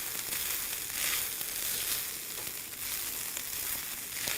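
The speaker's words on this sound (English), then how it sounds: "we're going to stir this all together, making sure all the ingredients and the spices are getting well incorporated into the vegan ground round." Vegan ground round with spices fries and is stirred in a pan, a dense continuous close sizzle with faint scraping movement throughout and no voices.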